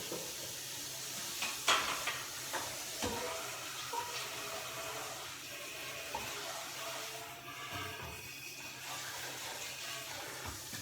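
Breaded pork cutlets for Milanese sizzle quietly in a pan, a soft continuous frying hiss broken by a few clinks and scrapes of a utensil nudging them, no voices.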